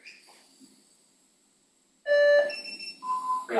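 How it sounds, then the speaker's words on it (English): Electronic beeps play as an audio demo for an audio comparison, arriving after near silence as a loud cluster of sharp, tonal bleeps at shifting pitches, close and clear with no talk. "Got some beeps and speaks and whatnot."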